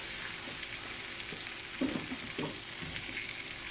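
Lamb stew stirred in a pot, a steady soft sizzle with a couple of dull spoon scrapes and knocks against the pot, fairly quiet and close.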